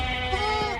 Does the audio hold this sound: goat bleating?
yes